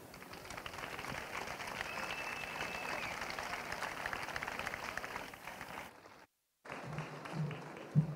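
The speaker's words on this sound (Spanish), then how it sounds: "Recibámoslo con un fuerte aplauso." An audience at a town festival presentation applauds to welcome the mayor, a dense, faint-to-moderate crowd clapping that holds steady for several seconds, then cuts off briefly before murmuring resumes.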